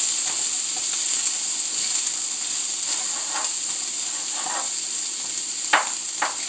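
Cauliflower rice being stirred in a hot pan for a keto cheese dish, with a steady sizzling hiss and scattered soft scraping clicks of the utensil, no talking.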